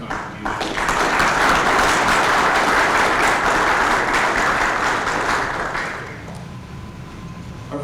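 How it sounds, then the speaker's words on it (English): Sustained audience applause fills a banquet hall at an awards ceremony, dense and loud for about six seconds before tapering off into quieter scattered claps. "Let's just give one more round of applause to these companies"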